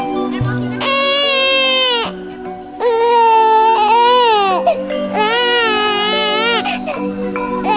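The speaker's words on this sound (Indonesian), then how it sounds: "Suara tangisan bayi siapa tengah malam seperti ini?" An infant cries at night in a staged musical drama of a legend, three long wailing bursts with pauses between, loud and close over a low background hum.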